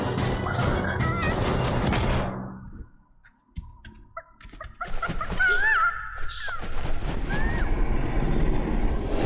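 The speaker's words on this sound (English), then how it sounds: "Chickens, my favorite part of the game." Video game chickens give gobbling, clucking fowl calls amid sharp, gunfire-like bursts, with a brief near-silent pause partway through before the racket returns.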